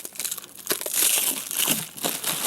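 Ford Racing valve covers for a Cobra replica being pulled from crinkly plastic packaging, close, continuous crackling and rustling with bursts of crumpling, no one speaking.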